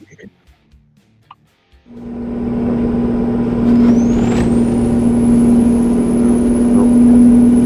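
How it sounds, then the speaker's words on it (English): A heavy truck's engine brake in American Truck Simulator: a loud, steady low droning roar swelling in, joined by a rising whine that settles into a high sustained tone, close and continuous. "I was trying to use my engine brake here."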